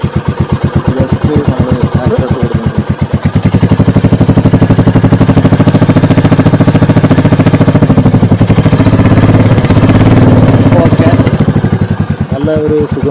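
A Royal Enfield Meteor 350 motorcycle engine idles just after starting, a loud, close, steady thumping beat that holds for the whole stretch.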